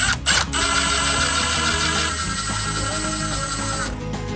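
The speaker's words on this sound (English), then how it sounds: "make sure you have an extension on your drill so you don't mar up the door hardware when you drill" A power drill drives screws into the hardware of a pre-hung door unit, a steady high whine after a couple of short starting bursts, running close and loud for several seconds before cutting off.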